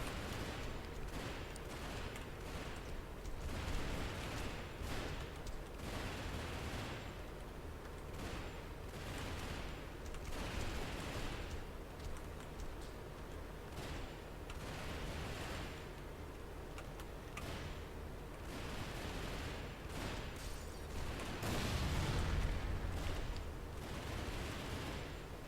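Pistol fire from the hero Jaxx in the superhero game Champions Online, a dense stream of rapid shots and impacts in a busy street brawl against gang members, steady and fairly loud throughout with no talking.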